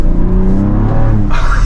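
Ford Bronco Raptor engine, 418 horsepower, revving hard as the SUV accelerates on a backcountry road, a loud continuous roar heard up close with rising pitch throughout.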